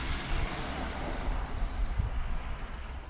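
A 1/20-scale HPI Maverick electric RC desert truck is driven at full throttle, giving a steady, moderately loud rushing drone with small surges and no talk.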